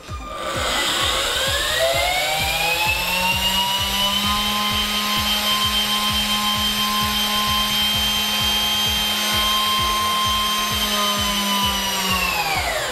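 Motors driven at maximum duty cycle by a Megoras MS12-24V10A 24 V 10 A motor driver board, a loud steady electric whine with a rapid rhythmic ticking pulse underneath, running continuously and close.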